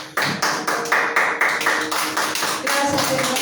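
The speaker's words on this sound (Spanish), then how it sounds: "Denle un aplauso al Señor" A church congregation claps in praise during a Spanish-language sermon, with loud, steady rhythmic claps in unison, roughly three per second, filling a reverberant room.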